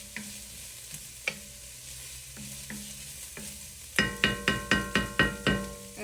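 Fresh garlic sizzles gently at the bottom of a soup pot while a utensil scrapes and taps the pot, first sparsely, then in a quick run of regular knocks.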